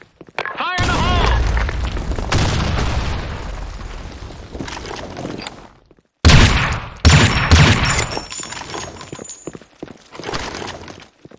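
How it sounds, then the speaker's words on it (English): A grenade explodes in a multiplayer shooter on a desert sandstorm map with a heavy booming blast and rumbling debris, followed by a second burst of clattering impacts and gunfire, with game voice callouts over it. "Fire in the hole! Grenade! Fire in the hole!"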